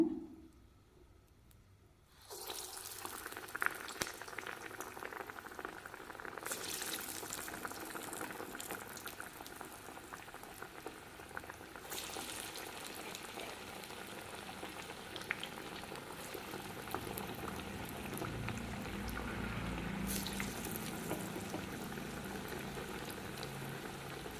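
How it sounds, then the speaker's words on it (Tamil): Moong dal (green gram) vadas fry in hot oil with a steady, dense sizzle and crackle. The frying runs continuously and close after a brief quiet start, with no talking. "எண்ணெய் சூடாயிடுச்சுங்க வடையை போட்டுக்கலாங்க"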